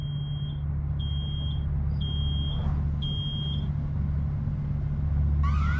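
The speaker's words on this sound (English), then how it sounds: "Oh no, something's beeping." An alarm in the video game Road 96 beeps in four regular, evenly spaced tones over a steady low vehicle rumble, ending on a rising electronic sweep.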